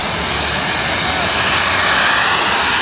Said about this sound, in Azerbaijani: Aha, təyyarənin biri də gəldi.